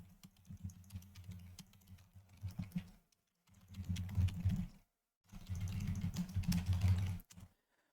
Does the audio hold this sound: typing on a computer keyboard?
yes